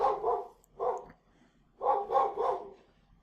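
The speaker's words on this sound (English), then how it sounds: "Apologies for the dog." A dog barks indoors in a few close, loud bursts, two quick barks then a longer string of barks after a short pause.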